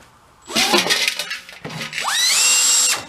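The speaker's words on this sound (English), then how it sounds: "I should probably click the drill over the slow speed" An electric drill set to slow speed, used on a farm, gives a short rough burst, pauses, then winds up into a rising, steady whine close by before stopping.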